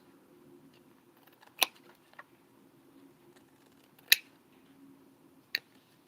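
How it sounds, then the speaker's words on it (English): Long scissors snipping paper, three sharp isolated cuts at about 1.6, 4.1 and 5.5 seconds over a low steady hum, close and fairly quiet. "Usually back in the day, you could take these scissors and go straight across."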